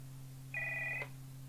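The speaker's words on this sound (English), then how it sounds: "Daphne Peacock rushes to her phone." A telephone in a 1992 BBC children's audio drama gives one short electronic ring, a clean steady tone lasting about half a second over a low constant hum, with no voices.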